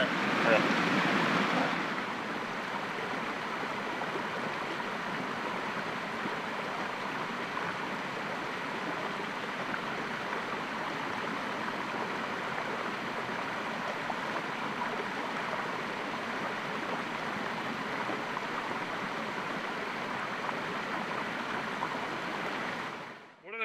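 A forest waterfall gives off a steady, full rushing roar that stays even throughout and cuts off abruptly at the end.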